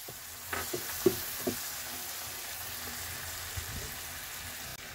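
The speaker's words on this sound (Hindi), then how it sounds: "इसे भी हमें साथ में ही फ्राई कर लेना है।" Finely chopped tomato fries in a pan for bheja fry, making a soft, steady sizzle with a few light taps and clicks near the start.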